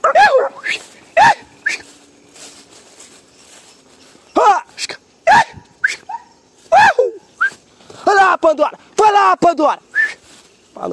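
A small female dog barks and whimpers outdoors in a series of sharp yips and high whines, with a whistle and occasional talk among the bursts.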